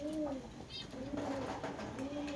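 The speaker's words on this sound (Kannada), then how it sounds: "ಆಮೇಲೆ ಇಲ್ಲಿ ಪಾರಿವಾಳ ಅದಾವೆ." Pigeons coo on a sheep farm in Belgaum, a few soft repeated rolling coos close by over faint background noise.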